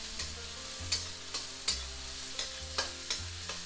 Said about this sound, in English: just fry them for a little bit, more like let it sweat